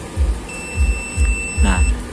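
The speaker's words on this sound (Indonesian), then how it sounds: "Ini kita set di skala buzzer." A digital multimeter set to its continuity buzzer mode, with probes touched together, gives a steady high-pitched electronic beep lasting over a second, over low background rumble and soft handling noise.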